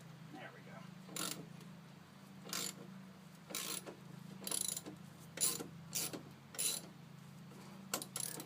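Ratchet with a 9/16 socket clicking in short, spaced bursts while loosening the blade bolt on an old, rusted lawn mower, heard close over a steady low hum.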